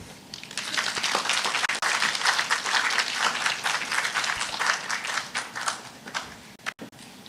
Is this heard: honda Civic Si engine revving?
no